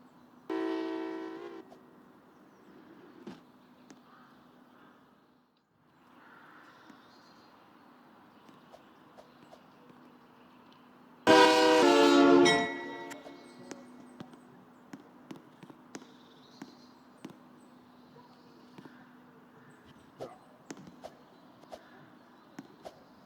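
A Ferromex locomotive horn in a video game sounds in two loud blasts, a short one at the start and a longer, stronger one midway, with quieter rumble, faint clicks and footstep-like taps between them.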